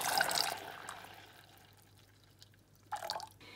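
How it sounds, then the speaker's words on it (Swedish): Milk poured from a container into a pot of melted butter, with a splashy liquid rush at the start, a quieter stretch, then a second short burst of pouring near the end. "Nu ska jag hälla i 5 deciliter mjölk."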